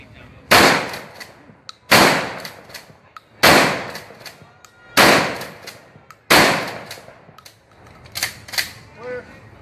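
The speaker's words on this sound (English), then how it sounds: "Just that quickly, we shoot 5 rounds." A 12-gauge shotgun fires five rounds of buckshot at a WWII weapons demonstration, five loud sharp blasts spaced about a second and a half apart, each with a short ringing tail, and a voice is heard faintly at the end.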